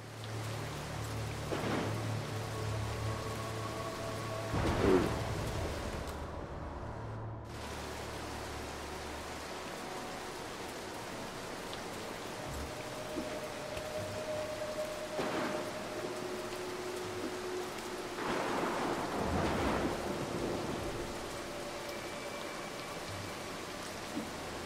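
Steady rain with occasional thunder rumbles during a stormy night level in the stealth video game Mark of the Ninja, a continuous wash of rainfall with a few low booms, no talking.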